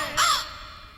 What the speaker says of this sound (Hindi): कौवा आते हैं